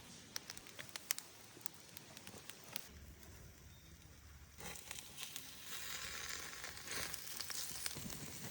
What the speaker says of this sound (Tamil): அப்பப்போ கொஞ்சமாக எண்ணெய் ஊற்றி குறைஞ்ச சுட்டில் முயலை சுட்டு எடுத்துக்கங்க.